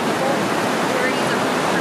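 Loud waterfall roaring in Yosemite, heard up close as a steady, dense rush of falling water that fills the whole clip with constant broadband noise and no breaks.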